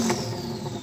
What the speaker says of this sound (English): Oh, listen to those turbos.